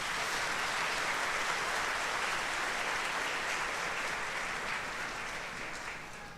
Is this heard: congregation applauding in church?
yes